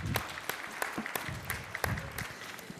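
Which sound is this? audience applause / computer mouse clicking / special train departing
audience applause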